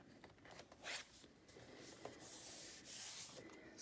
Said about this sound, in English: I'm just gonna burnish that down